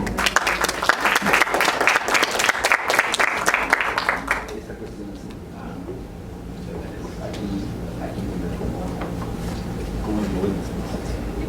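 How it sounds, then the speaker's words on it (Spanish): Applause from a seminar audience fills the first four seconds or so with close, busy clapping, then fades out, and a single voice carries on speaking alone over a quieter room. "Damos un fuerte aplauso a Eduardo."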